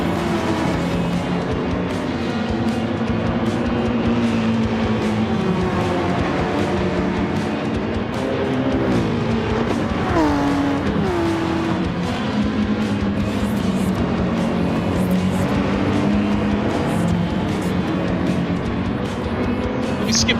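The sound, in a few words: race car engines in the video game Gran Turismo 7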